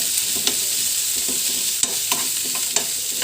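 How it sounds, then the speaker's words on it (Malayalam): Onions sauté in a pan for a ripe tomato curry, giving a continuous soft sizzle punctuated by several sharp stirring clicks and scrapes, close up and with no voices. "സവാള ഇട്ട് ഇച്ചിരി നല്ലപോലെ അതൊന്ന് മൂക്കണം"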